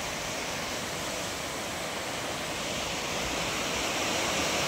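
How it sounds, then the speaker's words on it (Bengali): Fast-flowing floodwater in a flooded area rushes steadily as a loud, continuous broadband roar with no pauses and no voices. "দেখো তো কি অবস্থা, জলের কি গতিবেগ।"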